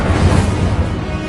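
The Incendio fire spell in Hogwarts Legacy lands as a short, loud, rumbling crash of flame and impact.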